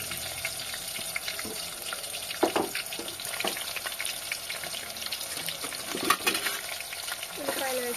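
Onions frying in hot oil crackle and sizzle steadily up close, with scattered stirring scrapes and clinks of a utensil against the pan throughout.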